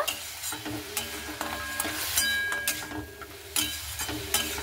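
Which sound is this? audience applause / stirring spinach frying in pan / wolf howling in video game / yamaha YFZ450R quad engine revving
stirring spinach frying in pan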